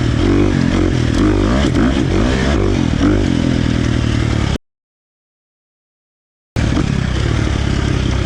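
A KTM 350 XC-F dirt bike with a Vortex ECU tune revs hard in third gear, its loud engine roaring steadily with clattering, then cutting out abruptly before returning.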